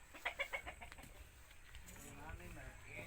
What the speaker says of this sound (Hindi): ये मुर्गा है, इंतहाई अच्छा मुर्गा है